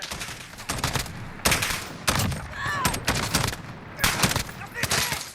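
Shots from an MK 20 SSR rifle in Call of Duty: Modern Warfare crack out in several sharp, loud bursts at irregular intervals, each with a short echoing tail, over game ambience.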